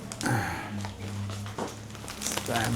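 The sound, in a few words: crinkling plastic grocery bags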